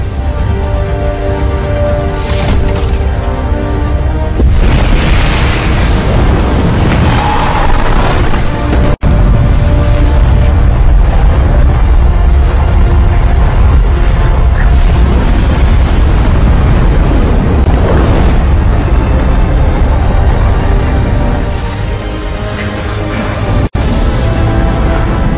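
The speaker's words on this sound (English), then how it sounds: "Rocket separation confirmed." A rocket launch and stage separation in a film, set during a trip to space: a loud, sustained roaring rumble with wind-like turbulence and booming low end that runs throughout, with two sharp cracks partway through.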